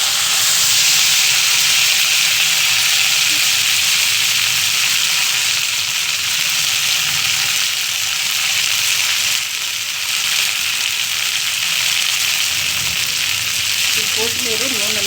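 Coriander leaves fry in hot oil for a tomato chutney, giving a loud, steady broadband sizzle and hiss that runs the whole time, with faint stirring and a brief voice near the end.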